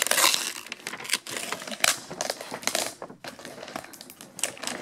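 Cardboard box being torn open by hand, a run of loud, close rips and crunchy tears in irregular bursts, with scraping and rustling between them and no talking.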